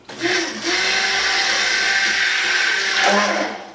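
A blender whirs loudly and close, a dense grinding roar that holds steady for a few seconds with a slight surge near the end.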